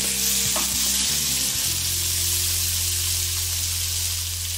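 Shrimp fry in a pan with a loud, continuous sizzle and crackle that stays even throughout, over a low steady hum.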